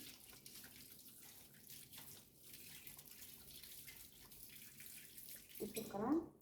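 Water runs from a tap during handwashing, a soft steady splash at low level with a brief louder gush near the end as someone talks throughout.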